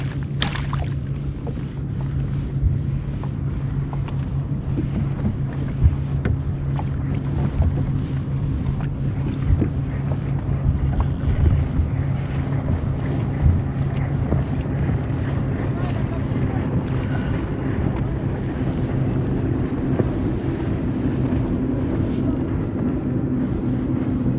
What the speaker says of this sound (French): Je laisse passer le bateau de pêcheur